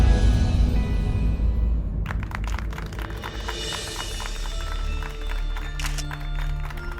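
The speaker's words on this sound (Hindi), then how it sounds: "आप ही के लिए ताली बज रहा है।" Applause breaks out in a police station, a crowd clapping in a dense patter that starts after a few seconds and carries on steadily to the end.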